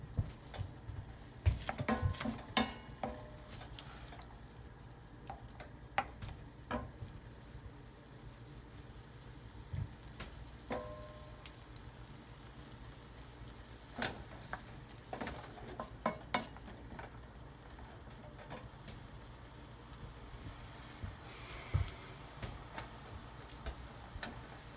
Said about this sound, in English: got a cup of white wine in there. And we're gonna let this come to a simmer